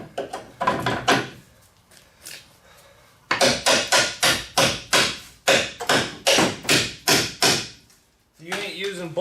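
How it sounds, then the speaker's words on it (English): A hammer drives a bolt into the heavy rear axle of a Chevrolet Avalanche truck. The sharp metallic blows come first as a short burst, then as a long, fast, regular run. A voice speaks briefly near the end. "let's just get a bolt and hammer it in there."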